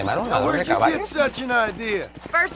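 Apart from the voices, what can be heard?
No everyday noises stand out.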